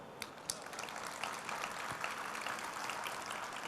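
A conference audience breaks into sustained applause, a thick, even wash of many hands clapping at moderate distance, with a few sharper claps standing out near the start.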